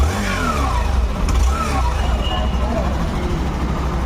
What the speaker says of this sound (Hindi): यहाँ पर आपको जो है कुछ ऐसा इंजन एग्जॉस्ट साउंड मिल जाता है